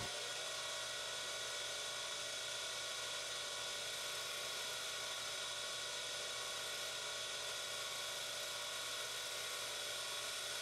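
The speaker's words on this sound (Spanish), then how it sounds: "He decidido cambiar de herramienta y probar con esta gubia de perfilar." A wood lathe spinning a turned piece while a profiling spindle gouge shapes it, a continuous steady mechanical whine with a faint cutting hiss throughout, close and unbroken.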